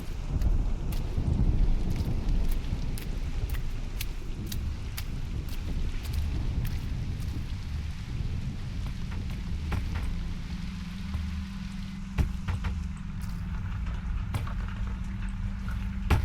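Steady video game rain hisses continuously at an even level, with occasional sharp ticks of drops striking nearby, and no voices.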